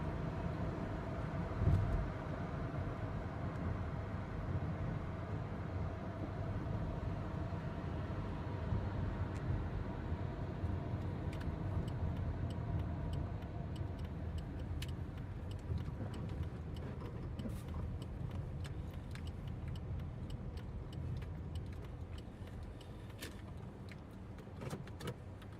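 A car engine heard through a phone speaker makes a steady, muffled drone with faint ticks and rattles throughout, with no talking.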